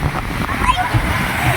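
Waves and splashing water from many people bathing at Buktot Beach in Mansalay, Oriental Mindoro, a steady wash of surf with people talking over it.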